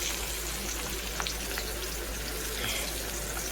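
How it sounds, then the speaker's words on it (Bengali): Bitter gourd frying in a pan, a steady close sizzle of hot oil with a few faint crackles, alone with no talking. "এই দেখো এখানে হচ্ছে উচ্ছে ভাজছি"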